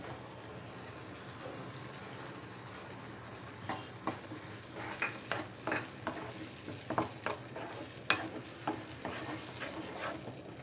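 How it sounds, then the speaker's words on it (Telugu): Tomato paste with turmeric and ginger garlic paste cooks in a pan for a mushroom masala curry, a soft continuous sizzle joined midway by repeated spoon scrapes and stirring knocks. "ఈ టమాటో పేస్ట్ పచ్చి వాసన పోయే వరకు బాగా ఉడకనివ్వాలి."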